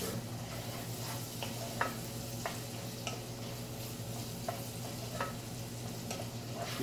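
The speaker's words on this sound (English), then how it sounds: "Give that a stir." Onions and meat for a spaghetti meat sauce fry in a pan on medium-high heat while a utensil stirs them, giving repeated scraping strokes over a steady, close sizzle.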